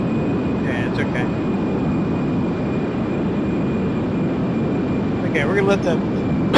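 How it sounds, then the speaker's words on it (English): Aircraft jet engines roar in a video game, a loud, dense, unbroken rumble throughout, with a couple of brief faint voice-like chirps riding on top. "we're gonna let the jet engines actually burn themselves out"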